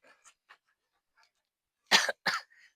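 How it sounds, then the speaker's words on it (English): A short burst of two harsh coughs close to the mic, preceded by a few faint breaths and small throat noises. "I'm sorry, I'm having a cough because it's getting cold here."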